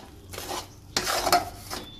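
A spoon clatters and scrapes against a pot as a sesame and peanut mixture is stirred into boiling jaggery, a few sharp metallic knocks over a soft bubbling hiss, close and without talk.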